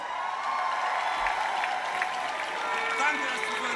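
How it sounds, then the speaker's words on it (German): A concert crowd at Columbiahalle in Berlin applauds in a steady, distant wash of clapping and cheering that holds at an even level throughout. "Applaus."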